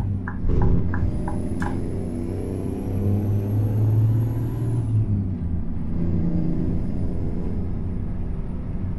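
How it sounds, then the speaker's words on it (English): Scania T4 truck with a Cummins 810 hp heavy specialist engine in Euro Truck Simulator 2 idles with a steady low diesel rumble, a brief air-brake hiss and clicks near the start, and a faint high whine above. "I think it's a Cummins 810 horsepower heavy specialist"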